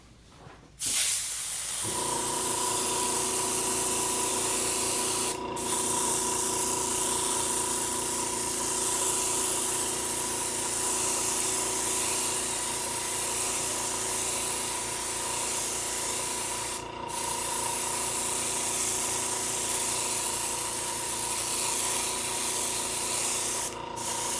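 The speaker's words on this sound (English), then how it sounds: "then you just start spraying" A loud, continuous hiss of aerosol spray paint runs for over twenty seconds, close up, with a few brief breaks.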